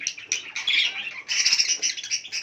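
Young birds squawk in a small breeding setup, a close, loud run of harsh overlapping calls in uneven bursts with brief gaps between them, no voices over them.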